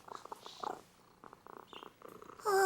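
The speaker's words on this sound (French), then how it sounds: "Parce qu'il ronronne. Écoutez." A cat purring close up in soft, rhythmic pulses, broken by brief pauses and ending in a sudden louder burst of noise.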